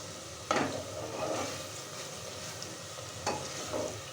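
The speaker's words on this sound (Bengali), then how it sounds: "মশলাটা আমি বেশ কিছুক্ষণ ধরে কষাবো।" Spice masala being sautéed in a pan for a chicken skin and chickpea curry, a soft steady sizzle with two distinct spatula scrapes and lighter stirring between them.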